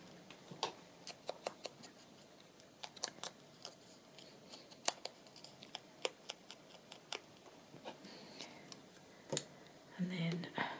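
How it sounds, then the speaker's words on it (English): Scissors trim the edges of paper for a card kit at close range, a run of sharp, irregular snips spread across the span with brief pauses, then a final shuffle of paper. "I'm going to trim off the sides just a touch"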